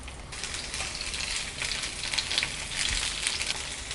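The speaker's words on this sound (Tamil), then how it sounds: "இந்த வேக வச்சுருக்கிற பாவக்காயை நல்லா ஃப்ரை பண்ணி தனியாக எடுத்து வச்சுக்கலாம்." Parboiled bitter gourd fries over high heat in sesame oil in a pan, giving a steady close sizzle that holds throughout, loud and even with no talk.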